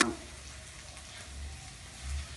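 Shrimp tossed into hot oil in a pan for a curry-powder stir-fry give a quiet, steady sizzle and crackle, with a brief clatter at the start and a low thump near the end.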